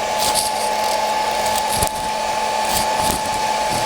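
A hot air blower heats a car sticker for removal, a steady close whooshing hum that runs on unbroken throughout with a faint high whine and no speech.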